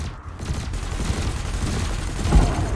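Ship cannon and laser fire in the Elite Dangerous space game, a dense continuous barrage of rumbling, crackling shots with a heavier boom near the end and no talk.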